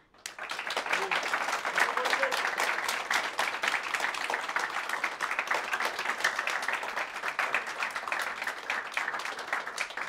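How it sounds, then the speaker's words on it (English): Sustained applause from a conference audience following an academic presentation on AI-assisted automatic line art colorization, a dense even patter of many hands clapping steadily for about ten seconds with no voices on top. "the audience applauds before the question of a jury"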